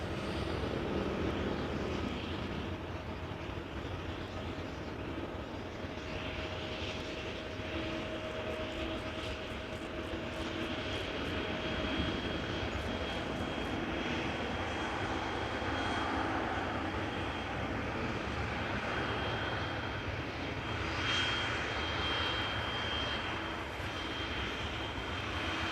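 A KLM Boeing 737-700 arriving from Geneva at Amsterdam Schiphol Airport roars steadily from a distance, a broad sustained jet engine rush with a faint whine that shifts slightly as it passes, with no voices.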